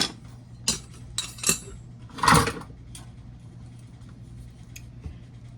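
Metal kitchen utensils, including whiskey tongs, being sorted: several sharp clinks and rattles in the first few seconds, with a louder jangling clatter in the middle, then quieter scattered taps against a faint background hum.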